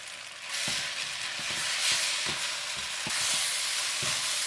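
Onions added to ground pork frying in a pan give off a bright, constant hiss and sizzle, with soft stirring thuds at irregular intervals close by.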